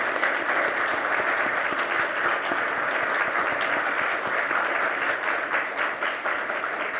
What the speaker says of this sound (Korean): 우리 힘차게 박수를 쳐주세요.